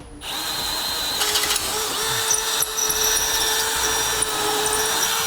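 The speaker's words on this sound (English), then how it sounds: "Right now that we have all of our holes started with a pilot hole, we'll enlarge them to the final size." A power drill enlarging pilot holes in the frame of a 2008 Honda CR-V for a base plate install, a loud steady high whine held for several seconds, close, with a brief pitch shift and no talk.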